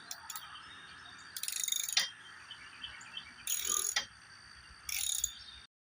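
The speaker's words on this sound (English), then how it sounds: "We're removing the bolts that hold on the top brace of the awning" A ratchet wrench loosens the bolts holding the top brace of an RV awning. Close, quick clicking comes in several short bursts separated by pauses.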